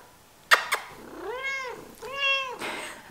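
A domestic cat meows twice, each call a clear drawn-out tone with a rising then falling pitch, close to the microphone in a quiet indoor room, preceded by two brief sharp knocks.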